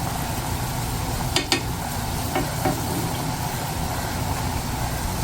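Spicy pitha made with mixed spices fries in hot oil, giving a steady, fairly quiet sizzle throughout, broken by a few brief clinks partway through.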